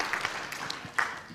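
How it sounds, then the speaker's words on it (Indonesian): Audience applause at a Catholic spiritual quiz competition during a North Sumatra Pesparani audition: a soft, steady patter of many hands clapping, fairly distant and quiet, with a few slightly louder bursts across the short stretch. "Oke, kita beri tepuk tangan."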